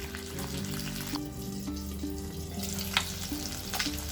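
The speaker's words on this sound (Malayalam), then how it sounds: "ചെമ്മീനെടുത്ത് മാറ്റി ആ എണ്ണയിൽ തന്നെ ഈ മുട്ട ഒന്ന് ഫ്രൈ ചെയ്യാം" Eggs frying in the oil left over from frying prawns, a steady close sizzle with low hum and occasional soft clinks of a utensil, no voices.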